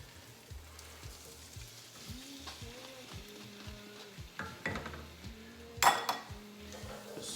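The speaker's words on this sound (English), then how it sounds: "Stir that up in that extra virgin olive oil with the garlic" Tomato pulp frying with garlic in extra virgin olive oil, a steady sizzle in a pan with the scrape and clink of a utensil stirring through it and one brief louder clatter, close by and with no talking.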